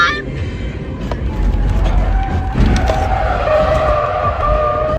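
A car skids with squealing tires in a crash, loud and sustained over several seconds, with a busy mix of engine and road noise throughout.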